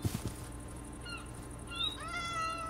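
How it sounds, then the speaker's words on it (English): A cat in Minecraft gives several short rising meows, faint and close together, with a blocky game ambience beneath them. "Oh my god, the cat scared me."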